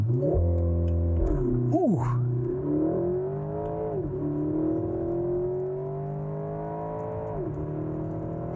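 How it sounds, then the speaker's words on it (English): A 2018 Porsche Macan Sport Edition launches under launch control, its engine held at high revs and then surging through a long rising acceleration with shift dips, loud and close from inside the cabin, with a brief exclamation near the start. "Let's try out the launch control real quick. Basically floor the accelerator and brake."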